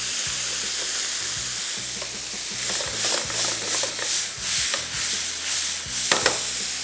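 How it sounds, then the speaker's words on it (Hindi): Shrimp fry in a hot pan with a steady, close sizzle, and stirring scrapes and clatters rise over the hiss in uneven bursts. No voices. "2 से 3 मिनट फ्राई करेंगे, निकालेंगे और झींगा पक चुका"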